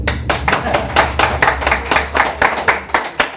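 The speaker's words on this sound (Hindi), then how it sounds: "चलो पंडित जी के लिए तालियां बजाएं" Audience claps for Pandit ji in a lively, close burst of distinct hand claps, loud and rhythmic, with sharp individual strikes repeating quickly for a few seconds.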